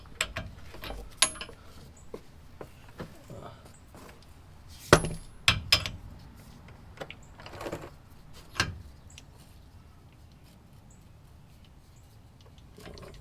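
A socket wrench with an 18 socket ratcheting on a vehicle bolt, giving sharp irregular metallic clicks and clinks in bursts, loudest near the middle, then trailing off into quiet.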